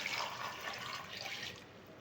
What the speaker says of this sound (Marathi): आता घालूया पाणी